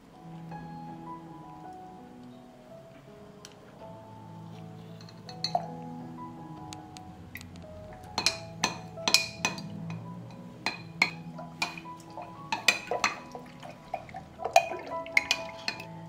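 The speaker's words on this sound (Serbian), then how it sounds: "2 supene kašike razmutit ću u 700 ml vode." Slaked lime powder stirred into 700 ml of water with a spoon, giving soft liquid swishing that builds into a run of sharp, close clinks and taps against the container, with no talking.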